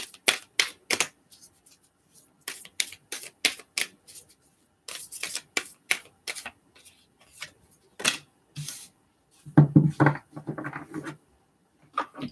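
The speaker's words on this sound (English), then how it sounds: "I just like to give them a few shuffles online." Tarot cards being shuffled by hand in short, crisp riffling bursts and taps, quiet and close, separated by brief pauses.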